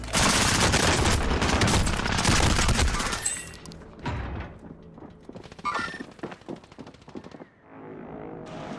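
Rapid automatic gunfire in Call of Duty, loud and dense bursts for the first three seconds, then scattered sharper shots and thuds trailing off into quieter ambience.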